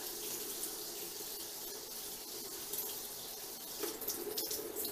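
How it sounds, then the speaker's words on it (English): Hot water runs steadily from a tap into a sink to rinse out a thickened, claggy brush, a continuous soft splashing hiss at moderate distance with faint clinks near the end. "rinse it under the tap."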